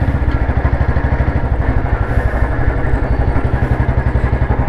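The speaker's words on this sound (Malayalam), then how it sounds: "നോക്കുക 30 സ്പീഡിലാണ് ഈ വണ്ടി പോകുന്നത്." A Royal Enfield UCE motorcycle cruising in top gear at about 30 km/h, its single-cylinder engine thumping in a steady, rapid, loud rhythm close by, with no voices over it.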